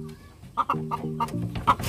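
A brooding hen on a free-range chicken farm clucks close by in a quick series of short, throaty clucks that grow louder toward the end, with no talking.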